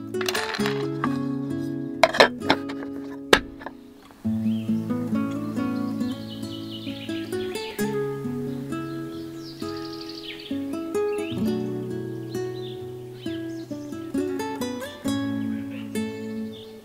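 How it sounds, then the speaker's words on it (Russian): Birds chirp and warble in the evening outdoors near a dugout by a stream. Their calls are fairly faint and scattered, mixed in with sustained tonal sounds and a few sharp clinks. "Вечереет, и птички распелись."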